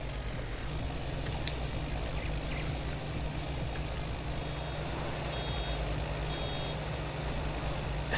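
A vehicle's reversing alarm in Farming Simulator 19 beeps faintly and steadily under a constant low engine drone, with no talk.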